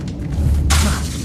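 Confringo blasting spell from Hogwarts Legacy going off as a single sudden explosive burst with a bright crackling tail and low rumble, fairly loud and heard alone.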